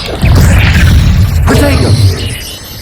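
Incendio fire spell cast in Hogwarts Legacy, a loud close burst that flares up with a crackling roar and a second surge of flame midway, fading after about two seconds.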